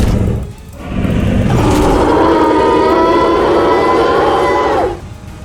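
A police car siren in the Roblox video game wails loudly and steadily for about four seconds, with rising and falling tones, after a brief thud.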